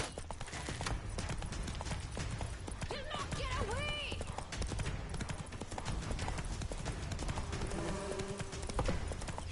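Roach, the horse in The Witcher 3, gallops in a fast, steady clip-clop of hooves that stays close and loud throughout, with brief game voices over it midway and near the end.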